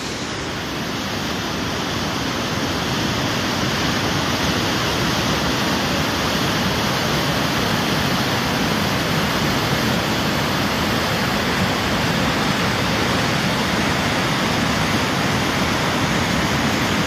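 Sauble Falls at Sauble Falls Conservation Area near Sauble Beach, Ontario, rushes in a loud, steady, broadband roar of falling water that fills the whole stretch without any voices.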